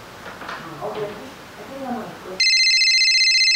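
Talking, then a loud electronic telephone ring starts and keeps going steadily to the end, with a bright repeating tone.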